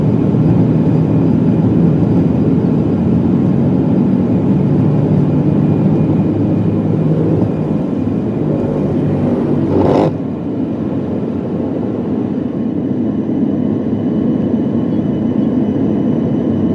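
Steady, loud airplane cabin drone during a flight from Uganda to Ethiopia, a broad continuous engine roar heard from a seat beside the wing, with a brief sharp click near the middle and no talking.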